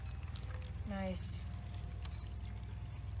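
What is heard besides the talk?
water being poured into a dish of rocks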